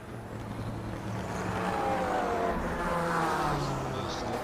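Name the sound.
Porsche 956 race car engine, from a video game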